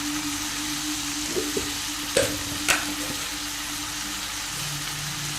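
Chicken pieces hit a hot frying pan for chicken pulimunchi, giving a steady close sizzle with a few stirring clicks and scrapes and no talking.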